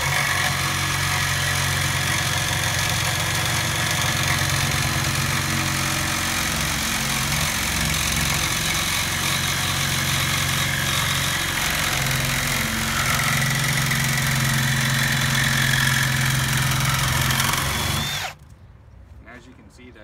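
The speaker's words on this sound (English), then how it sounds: "that's 1-inch threaded rod, so it takes a little bit to cut, but that cut through pretty quick" A saw fitted with a 14-tooth blade cuts through 1-inch threaded rod, giving a loud, steady grinding whine for about eighteen seconds before stopping abruptly into near silence.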